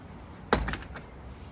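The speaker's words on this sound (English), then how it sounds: "One of my favorite features is the screen door on this trailer. Opens like this," The screen door of a 1964 Airstream trailer opens with a single sharp rattling clack followed by a few lighter knocks, fairly close, with a soft background hum.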